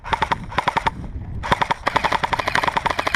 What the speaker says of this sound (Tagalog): Ito na yung bumabaril sa likod.